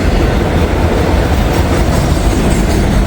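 A freight train pulling empty auto rack cars rolls past close by, a loud, continuous rumble and rattle of wheels on rails with steady clatter throughout and no voices.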